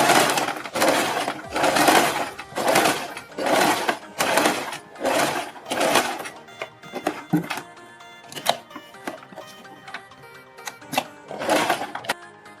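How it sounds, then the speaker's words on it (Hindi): Sewing machine stitching along a garment neckline right beside stiff buckram interfacing, loud close bursts of rapid mechanical whirring in repeated runs, then sparser clicks and short stitches, no talk. "इसके बाद हम बुकरम के बिल्कुल बराबर में पूरे नेक पर सिलाई लगा देंगे"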